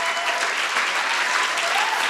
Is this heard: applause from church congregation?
yes